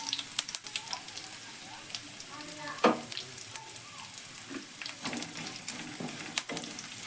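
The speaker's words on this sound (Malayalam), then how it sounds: "നമുക്ക് ഇതിലേക്ക് കുറച്ച് കറിവേപ്പില ഇട്ട് കൊടുക്കാം" Curry leaves sizzle in hot oil with ginger and garlic while a mango pickle is being made: a steady crackling fry dotted with sharp pops, one louder burst near the middle, with no talking.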